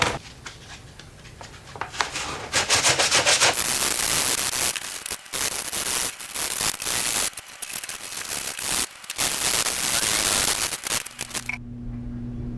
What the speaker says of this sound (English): come back later and sand it down